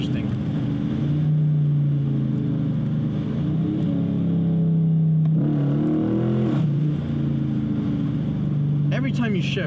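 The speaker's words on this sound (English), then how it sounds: "Every time you shift, the exhaust sounds incredible." Deep, steady exhaust rumble from a 2019 Dodge Challenger with a HEMI V8 and 8-speed automatic, heard from inside while driving, with a rise in pitch and a brief shift change midway and wind noise throughout.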